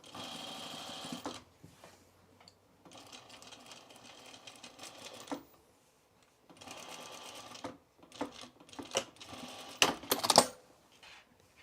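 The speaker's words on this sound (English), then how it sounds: "we're just going to top stitch this now in my top stitching guide there" A sewing machine top stitches Mitchell trousers in bursts, rapid mechanical needle rattling starting and stopping several times with quiet pauses between runs.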